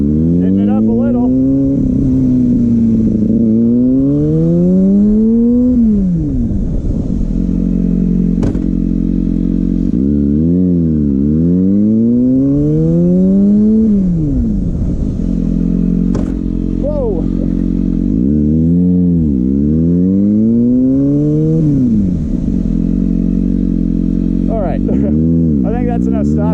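A Kawasaki ZX6R motorcycle during stoppie practice. The engine rises and falls in repeated cycles as the bike accelerates, then brakes hard to a stop, loud and close throughout.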